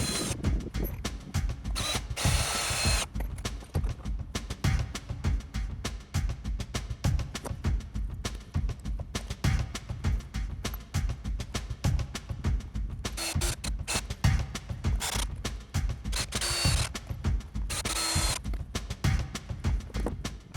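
A power drill driving screws to join two pieces of wood, a loud, close, continuous rattling whir with rapid clicking pulses and brief changes in pitch.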